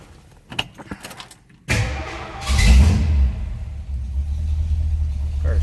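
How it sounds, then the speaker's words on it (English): Keys jangle briefly, then a 1957 Ford Fairlane 500 engine cranks and catches, settling into a steady, rumbling idle close by. "We'll fire it up so you can hear it run."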